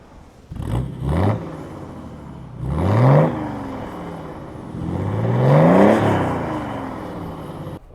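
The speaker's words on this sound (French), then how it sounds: "Je vais vous faire le petit test de l'échappement" A Mercedes with an OM606 turbo diesel engine revs three times, each rise swelling into a rough, throaty exhaust roar and falling back to a steady idle in between, heard close up.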